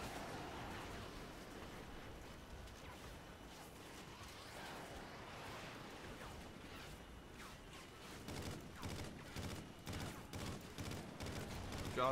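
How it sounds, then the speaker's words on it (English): Sustained gunfire in the Call of Duty Ghosts campaign, a steady background of battle with clusters of sharper shots that grow denser and louder toward the end. "Just gunning my own team down."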